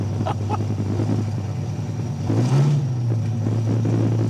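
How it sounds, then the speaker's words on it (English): A Dodge Viper with side exit exhausts revs loudly up close, a steady deep engine drone swelling into a stronger rev partway through, heard from inside or beside the car with no talk. "Holy sh**, that is loud. Wow, side exit exhausts."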